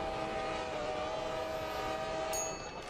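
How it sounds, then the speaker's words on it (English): A polar train rolls past in the railway game Rails Unlimited, giving a steady rumbling wash with a sustained horn-like tone throughout, then a brief bright metallic burst near the end as the sound eases. "Did not expect to see a polar train going by."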